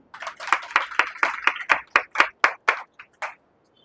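An audience claps in a quick, even series of about a dozen sharp claps that fade out toward the end, heard indoors during a Hindi spiritual lecture.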